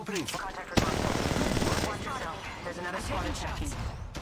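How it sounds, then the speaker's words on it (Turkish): Rapid automatic gunfire from enemies in the mobile battle-royale game Apex Legends Mobile, dense bursts rattling close and loud for several seconds, with a player's voice talking over parts of it. "The enemies are shooting at me."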